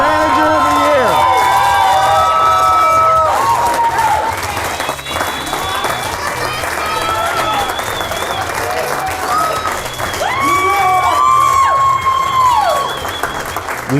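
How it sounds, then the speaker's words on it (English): A large audience applauds and cheers loudly for a Manager of the Year award at a company event, with continuous clapping, whoops and shouts and music playing underneath. "let's give a big, big applause to Vanessa, this year's Manager of the Year."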